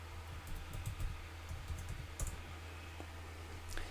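A few light key clicks from a laptop computer keyboard, scattered and faint over a steady low hum, with one sharper press standing out near the middle.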